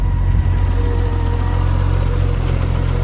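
A 1974 Triumph TR6 convertible engine idles steadily right after a tune-up and oil change, a close, continuous low rumble with no change in revs.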